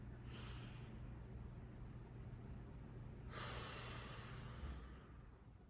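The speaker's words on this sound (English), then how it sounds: "we take a moment just to breathe in deep and focus on what we want" Slow, deep breaths during a money attraction candle spell: two long, airy inhales or exhales, soft and close, with no speech.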